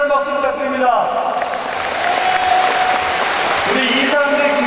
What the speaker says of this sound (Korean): 최규성 논수당 위원장께도 커다란 박수 부탁드립니다